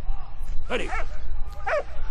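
Two quick dog barks, spaced about a second apart, loud and close, from the video game Valiant Hearts.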